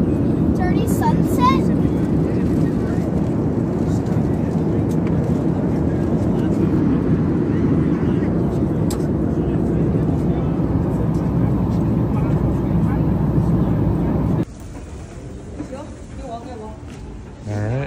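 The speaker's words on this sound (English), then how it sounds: "Crystal, we're on the plane, on the ground still, headed to Vancouver" A constant low rumble of airliner engines and cabin ventilation drones steadily inside a plane cabin on the ground, with brief faint clatters, then drops to a quieter hum near the end.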